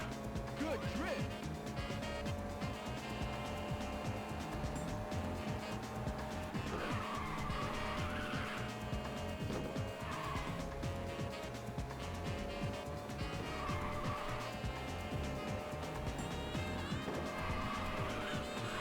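A race car in the Ridge Racer 2 video game drifts with a steady engine drone and intermittent tire squeals across a sustained run, layered under game music and announcer-style voice callouts.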